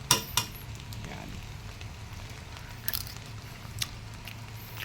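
Dulong fish cooking with onion and tomato in a pan, a soft steady sizzle with a few sharp utensil scrapes and clinks against the pan, no talking.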